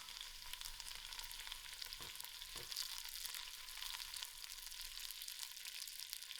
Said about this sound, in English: My onions are starting to brown, and then to my onions I'm going to add in my curry leaf and thyme.